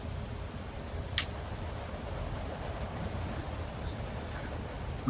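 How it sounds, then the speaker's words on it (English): Steady, soft rain patters in the video game The Mountain, a faint, even hiss of falling drops with one brief sharp click partway through and no voices. "It's raining. It's raining."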